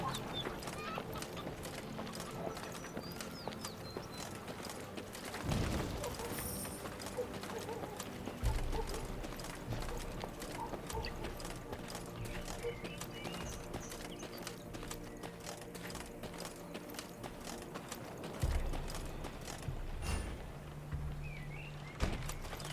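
Horses riding with rhythmic clip-clop hoofbeats in Thronebreaker: The Witcher Tales, a steady moderate-paced clatter under a sustained musical and ambient bed, with occasional louder accents and some fowl-like clucks in the background.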